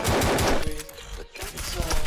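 Rapid handgun fire in World War Z Mobile, a fast string of loud close shots at the start, then sparser single reports over game noise.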